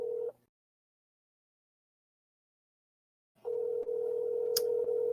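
A telephone ringback tone on an unanswered call: a steady electronic tone cuts off, a few seconds of silence follow, then the tone returns with faint background noise.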